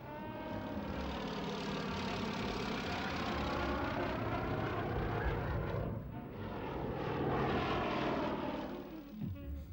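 A propeller-driven early aeroplane flies by with a droning engine, steady and moderately loud, swelling and fading slightly as it passes, no voices.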